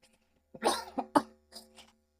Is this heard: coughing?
yes